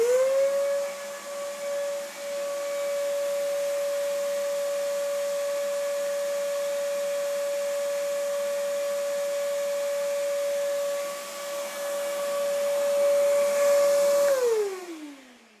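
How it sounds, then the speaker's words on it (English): A shop vac runs for chip collection, a loud steady whine that swells as it starts, holds an even tone for about fourteen seconds, then drops in pitch as it winds down. "let's go one more try with the shop vac"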